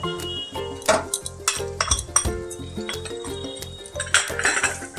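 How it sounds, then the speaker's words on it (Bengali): Coriander, dried chilli and cumin powders being mixed with a spoon, which taps and clinks rhythmically against the side of the bowl in quick repeated strokes, close and clear. "মশলার সাথে আমি প্রথমে মিশিয়ে নিচ্ছি ভালো করে।"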